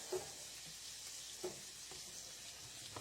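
Cut squash pieces fry in a pan with a steady soft hiss, faint and low, broken by a couple of brief clinks or taps.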